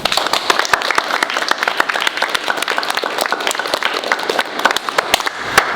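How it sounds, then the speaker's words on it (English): Middle school students clap together in a dense, steady burst of applause at a school assembly, sharp hand claps packed throughout and fairly loud and close. "Just clap if I'm right."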